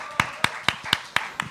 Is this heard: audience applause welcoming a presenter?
yes